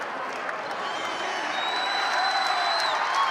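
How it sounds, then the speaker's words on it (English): Steady crowd noise fills a college basketball arena during an NCAA men's game between Alcorn State and Southern Illinois, with a standing crowd clapping and cheering, swelling slightly louder toward the end. "And that brings the crowd, who's already standing up, to clap a little louder."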